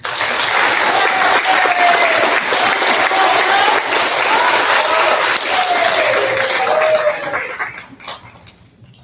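Loud, sustained applause from a large crowd at an 8th grade graduation ceremony, mixed with a dog's whining, fading out near the end into scattered claps.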